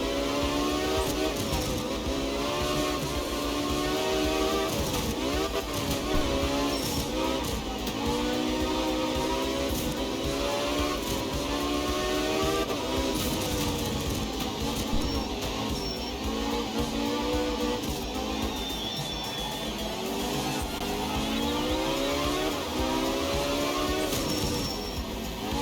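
Rally car engine in the racing game Art of Rally, a constant buzzing drone with pitch rising and falling as the throttle is worked through corners, steady and fairly loud throughout.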